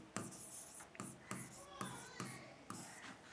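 Pen strokes write notes on paper for a biology lesson, arriving as regular bursts of scratching roughly every second, faint and close, with a voice speaking faintly in the background.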